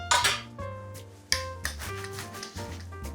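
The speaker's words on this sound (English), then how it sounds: "All we have to do now is roll the dough." Pastry dough for a quiche being rolled out with a length of PVC pipe used as a rolling pin, giving soft repeated rubbing and rolling strokes with a few sharper knocks, close by and without any talk.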